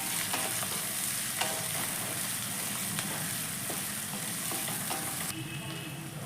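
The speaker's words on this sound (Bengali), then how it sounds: "এবার আদা রসুনের গন্ধটা যতক্ষণ না যাবে একটু ভালো করে ভেজে নেব" Garlic, ginger and green chili fry in hot oil with a dense, continuous close sizzle, occasional stirring taps of a utensil on the pan, and a brighter hiss toward the end.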